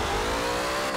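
A stock 1970 Chevrolet Chevelle SS revs hard in Forza Horizon 4, its V8 engine holding a loud, strained, high-pitched roar at high RPM for a short burst, with nothing else heard over it.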